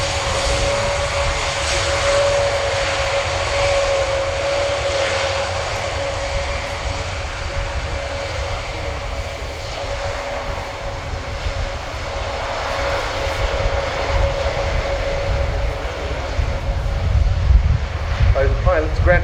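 An Airbus A400M military transport performs a flying display at the RIAT 2019 airshow, its four turboprop engines giving a loud sustained drone with a steady tonal hum that swells louder toward the end, heard under commentary.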